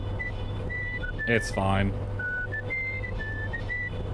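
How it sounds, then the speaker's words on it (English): Someone whistles a simple melodic tune in short clear notes with gaps, moderately close, over a steady low hum, with a brief spoken remark breaking in midway. "Logan's whistling."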